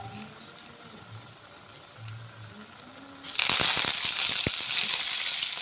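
Curry leaves sizzle in hot oil in a pan with garlic cloves for a cucumber pickle, erupting into a loud, steady crackling hiss partway through after a quieter stretch.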